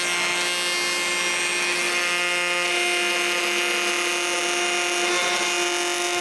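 A router with a copying bit cuts a handle shape from pallet wood along a template, giving a loud, continuous high whine with a steady pitched cutting tone throughout.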